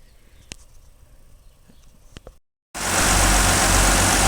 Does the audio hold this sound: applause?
no